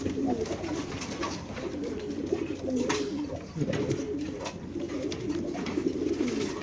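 Steady, continuous cooing from large racing pigeons offered for sale in a loft, a low throaty murmur from several birds layered throughout at moderate level, with no talk over it.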